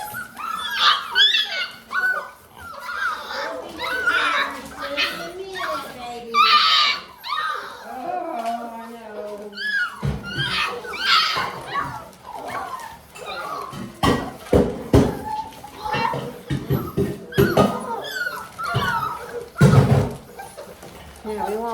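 A litter of bullmastiff puppies at feeding time, whimpering, yelping and squealing in overlapping bursts throughout, with a person's voice and occasional clattering mixed in.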